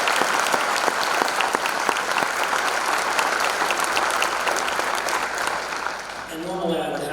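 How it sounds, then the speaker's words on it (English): An audience at a school spring band concert applauds, with steady, dense clapping from a full hall that carries on throughout and thins slightly near the end. "So give them a round of applause."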